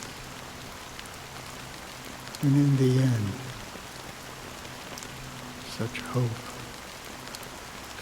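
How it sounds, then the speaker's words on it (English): Fine drizzle of black rain falls in the Honkai Star Rail video game as a constant soft, even patter throughout, while a voice speaks briefly in the middle over it. "amidst fine drizzle of black rain"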